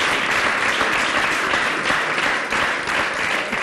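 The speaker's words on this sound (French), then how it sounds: "j'appelle Paulin Mukendi, qu'on applaudit très fort." Audience at a live show clapping loudly and continuously, a dense steady wash of applause with no break throughout.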